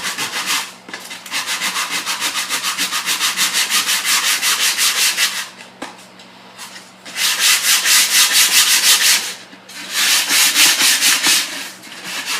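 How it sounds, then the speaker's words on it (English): Coarse sandpaper rubbing over the scarf joint of a wooden snare drum shell, loud steady rasping strokes in three long sustained bursts separated by brief pauses, close and alone. "I'm just going to use a heavier grade of sandpaper."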